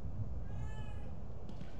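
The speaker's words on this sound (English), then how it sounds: "There's Kitty. Hello, Kitty" A faint cat meow inside the horror video game The Evil Within 2, a soft drawn-out cry low in the mix over steady background ambience.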